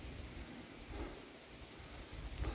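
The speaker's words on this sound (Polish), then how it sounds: "Cały czas pada, ale taka drobnica." Light, fine rain falling steadily on a mountain trail in the Tatras, a soft continuous patter with low rumbling noise underneath and a slightly louder burst near the end.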